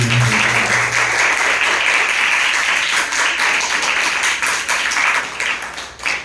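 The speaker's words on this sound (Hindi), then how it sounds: "जोरदार ताली।" Loud, sustained applause from a large class of students, a dense wash of clapping that fades slightly toward the end.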